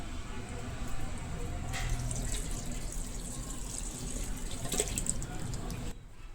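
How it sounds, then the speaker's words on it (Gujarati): Boiled drumsticks poured into a sieve as water splashes and drains steadily for several seconds, a close, continuous wet rush that ends abruptly near the close. "આપણે આ બાફેલા સરગવાને એક ચારણીમાં કાઢી લેશું"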